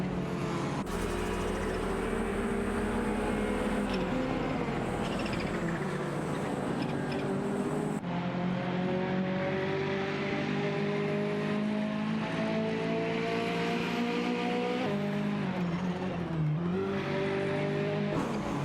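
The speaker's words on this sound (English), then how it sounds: "Keep an eye on these two as they maneuver their Porsche 968 Turbo Rs and Toyota Celica around the track." Porsche 968 Turbo R and Toyota Celica race cars in a racing game, engines droning and revving steadily with rising and falling pitch, loud and continuous with no voices.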